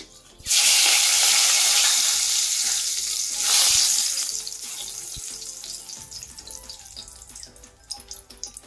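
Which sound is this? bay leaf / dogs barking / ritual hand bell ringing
bay leaf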